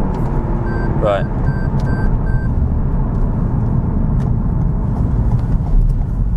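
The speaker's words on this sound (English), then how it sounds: "It's a lot revvier than I thought it would be being turbocharged, especially such a small engine." A small turbocharged engine in a Toyota GR Yaris Circuit Pack revs hard on track, its pitch climbing sharply over a steady loud engine roar.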